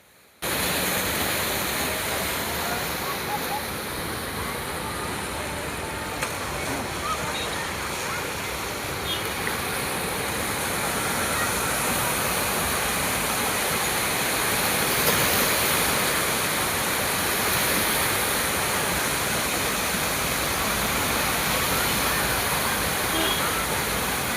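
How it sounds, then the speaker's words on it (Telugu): Sea waves at Murdeshwar beach make a steady, loud broadband roar that holds constant with no distinct breaks for over twenty seconds, with no voices. "సముద్రపు అలలు శబ్దం ఏ విధంగా వినిపిస్తుందో"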